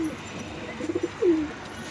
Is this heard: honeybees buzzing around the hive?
no